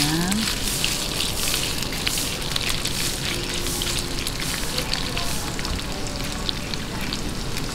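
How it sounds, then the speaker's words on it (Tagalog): Luncheon meat fries in a pan with a steady, dense sizzle and crackle that holds evenly throughout, close and fairly loud, with no talking. "habang piniprito po natin tong ating luncheon meat"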